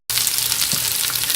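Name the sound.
mustard seeds spluttering in hot oil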